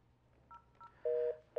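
Telephone dialing tones on a radio call-in line: a few short beeps followed by two longer steady tones, clean and isolated against a faint hum.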